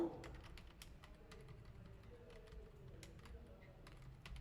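Fingers type on a computer keyboard while a simple counter web app is coded, producing quick, soft, uneven clicks at close range over a faint background hum, with no talking.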